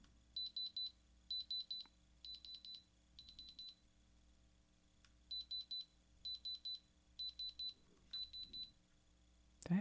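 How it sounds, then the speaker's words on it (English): An electronic diamond tester pressed onto a stone gives bursts of rapid high beeping in repeated groups, close and fairly quiet, with small handling noises between them. "There's a little tester, like a little thing, and then you put it straight onto the stone."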